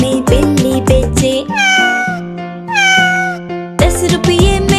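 A cat meows repeatedly, several drawn-out, high tonal mews set against a bouncy children's song with plucked instrumental backing, loud and clear.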